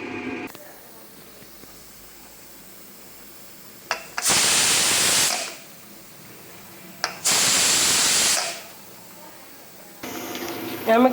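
A pressure cooker cooking lentils lets off two loud bursts of hissing steam, each lasting about a second, separated by quieter stretches with a short sharp spurt before each burst.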